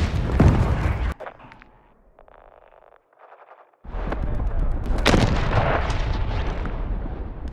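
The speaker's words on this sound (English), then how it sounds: "Hostile cruise missile incoming" A Call of Duty: Modern Warfare 3 cruise missile blast lands as a loud, heavy explosion, followed by a quieter stretch of distant rumble and crackle. A second powerful roaring burst of booms and debris comes after it.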